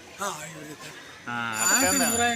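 A telephone rings with a bright electronic tone that swells in the second half, while a person talks over it.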